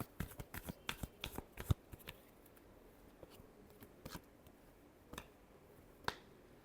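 Tarot cards are shuffled in a quick burst of crisp riffling snaps and flicks, then a few isolated taps and slides after a pause, close and quiet with no talking.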